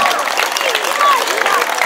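A crowd applauding steadily throughout, dense clapping with a few whistles rising above it, fairly loud and close.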